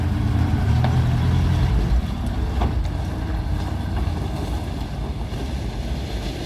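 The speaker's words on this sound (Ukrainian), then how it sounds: "Все, зілок погнав. Старий, але працює." An old ZIL truck engine rumbles low and heavy as the truck drives off, the sound easing slightly as it pulls away amid wind buffeting on the microphone.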